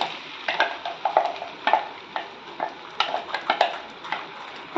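Whole spices cumin, cinnamon, cloves, cardamom and bay leaf fry in a pan for paneer butter masala, with a soft sizzle under repeated sharp scrapes and clinks of a utensil stirring against the pan, close and irregular.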